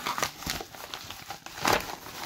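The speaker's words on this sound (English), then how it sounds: "but it's only opening an envelope" Paper crinkles and rustles up close, with a sharper tearing crackle near the end as an envelope is cut open with scissors.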